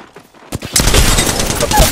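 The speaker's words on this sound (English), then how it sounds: "They're shooting at me." Rapid automatic gunfire in Apex Legends, a few sharp shots opening into a dense, loud continuous burst of fire close by.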